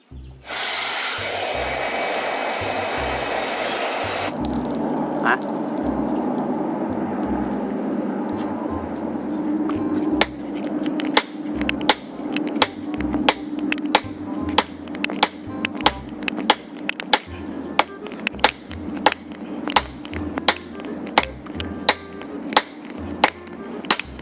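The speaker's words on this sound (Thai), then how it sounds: "เราก็เอาไปเผาไฟ ตีให้แบนครับ ทีนี้ทุบ" Heated steel is hammered flat to forge a rubber-tapping knife: after a steady blower hiss from the fire, loud ringing hammer blows strike the metal in a fast, even rhythm, dozens of close metallic clangs repeating to the end.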